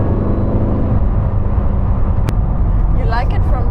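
Matte Mercedes SLR McLaren 722 S driving, a loud steady engine rumble and road roar heard from inside the car, constant throughout, with a brief click and people talking near the end.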